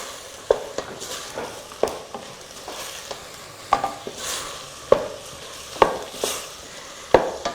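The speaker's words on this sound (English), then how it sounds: "Okay, we add our garlic. Stir that up very well." Garlic sautéing in a pan for sweet jollof rice, stirred with a utensil that clinks against the pan at irregular intervals over a steady low sizzle, with no talking.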